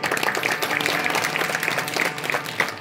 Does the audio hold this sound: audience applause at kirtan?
yes